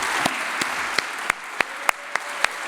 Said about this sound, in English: please may I ask you to join me in applauding once again a fantastic contribution and